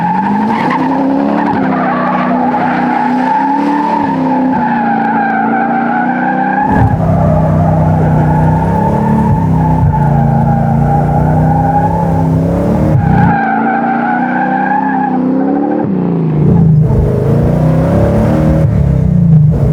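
A 700 hp big block BOSS 9 Mercury Cougar fastback does donuts, its engine roaring steadily with surging revs and continuous loud tire squeal throughout, close and unbroken.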